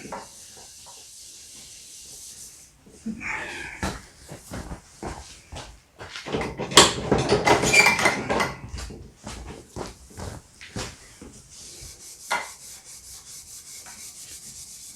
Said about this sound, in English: a little bit of Scotch-Brite, steel wool, clean that up.